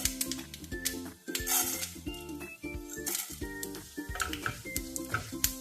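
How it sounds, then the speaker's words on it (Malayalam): Urad dal and chana dal sauté in coconut oil with mustard seeds, a steady sizzle broken by clinks of a spoon against the pan and stirring scrapes, close and moderately loud with no talk. "ഉഴുന്നും കടലപ്പരിപ്പും കൂടെ എണ്ണയിലൊന്ന് വഴറ്റിയെടുക്കണം."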